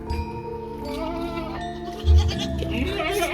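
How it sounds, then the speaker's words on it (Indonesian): Goats bleat repeatedly in a lively rural Javanese village setting, several animals calling over one another at close range with a louder burst near the end. "Dan ini banyak sekali kambing-kambing ini teman-teman."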